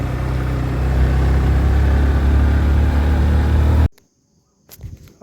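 A motorcycle engine running at the parking area of Sindhuli Gadhi, a loud, steady, close rumble for several seconds that cuts off abruptly, leaving near silence with faint handling noise.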